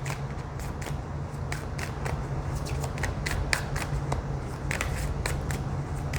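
A tarot deck is shuffled steadily and close up, with a continuous papery riffle of dense, rapid card clicks over a low background hum.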